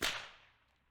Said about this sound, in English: I wanna be able to crack my whip mid-air